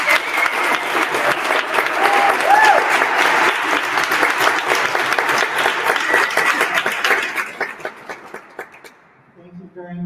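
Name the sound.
audience applause welcoming Senator Jason Lewis and Representative Alice Weiss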